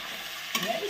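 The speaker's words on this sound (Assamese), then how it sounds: "এতিয়া ভাজি দিওঁ অকণমান।" Spices for mixed bhaji sizzle in a pan with turmeric added, a steady soft fry broken by a brief scrape of stirring midway.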